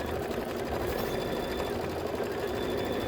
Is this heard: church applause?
no